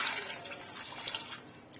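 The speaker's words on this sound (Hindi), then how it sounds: "मैं थोड़ा सा इसमें पानी ऐड कर रही हूँ" Water poured into dal with whole spices in a pressure cooker, a steady close splashing trickle running throughout with no voices.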